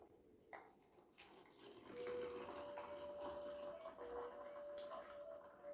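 Brewed Floral Fusion tea, a blend containing dried stevia leaf, pours from a plunger-style brewer into a cup, a soft continuous trickle starting after a brief pause and running steadily to the end.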